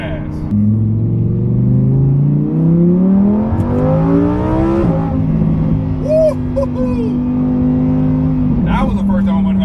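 A Lamborghini Huracan EVO pulls hard at full throttle, its engine note climbing through the revs, then dropping at a gearshift and climbing again, loud and close from inside the car, with a voice talking over it.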